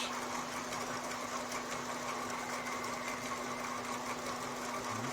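An SEG machine runs with three rollers spinning, giving a steady, even mechanical whir with a constant hum underneath, unchanging and alone throughout, with no voices.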